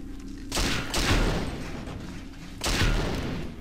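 Two heavy explosive charges detonate in succession in the video game James Bond 007: Nightfire, each followed by a long rumbling, crackling tail, loud and close.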